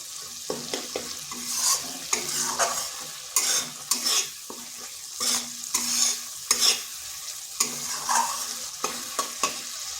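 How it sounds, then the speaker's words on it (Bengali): A spatula scrapes and stirs tomato masala in a frying pan in repeated rhythmic strokes over a steady sizzle, close and clear with no voices. "খুন্তির সাহায্যে এরকম করে দিচ্ছি, তাহলে টমেটোগুলো ভালোভাবে গলে যাবে।"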